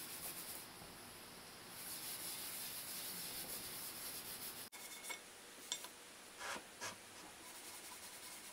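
Rust being rubbed off a kettlebell, a steady scratchy scrubbing that continues for several seconds, then pauses and returns as a few separate rubbing strokes, faint and close with no talking.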